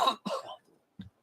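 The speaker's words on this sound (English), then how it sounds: "The traditional cough." A host on a sports podcast coughs close to the microphone: two quick rough coughs, then a softer single cough after a short pause, with no talk.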